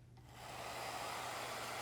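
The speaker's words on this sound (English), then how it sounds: "I am going to use my trusty hair dryer" A hair dryer blows warm air over freshly painted acrylic on a rustic sign, swelling up as it switches on and then settling into a steady, quiet whooshing whir.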